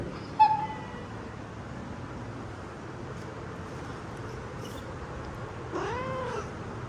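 A cat meows once near the start, then a longer drawn-out meow follows near the end, both over a steady low background hum.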